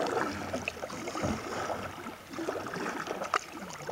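Paddling a small 10-foot kayak on open water, with soft splashes and rippling water around the hull as the blade dips in a loose, uneven rhythm, close and moderately loud with no talking.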